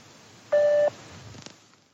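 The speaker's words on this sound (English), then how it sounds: "Please leave a message after the tone." Single steady voicemail tone beep at a moderate level, lasting under half a second, with quiet room noise and a faint click after it; no talking.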